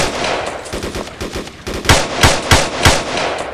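Loud bursts of machine-gun fire in the ArmA battle, a steady rattle of shots that turns into heavier, spaced heavy reports near the end, with no voices.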